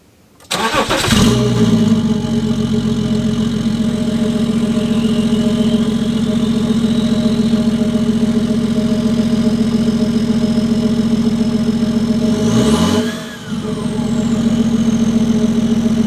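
A BMW X5 diesel (E70) engine cranks and fires up loudly, then settles into a steady, deep idle; a second brief restart interrupts it near the end.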